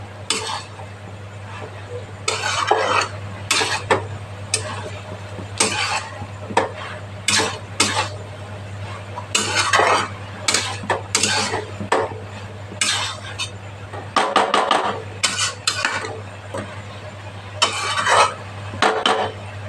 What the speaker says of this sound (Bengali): গরম মশলা দিয়ে মিক্স করে দিচ্ছি ভালো করে।